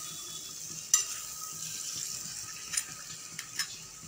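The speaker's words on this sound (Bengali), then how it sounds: "এখন সমস্ত সবজি আর সাঁতলে রাখা মাছগুলোকে দিয়ে নেড়ে চেড়ে সমস্ত মশলার সাথে মিশিয়ে নেব" Vegetables and lightly fried tangra fish with spices stirred in a pan: a low frying sizzle with a few sharp scrapes and clacks of the utensil against the pan, nearby and unaccompanied by talk.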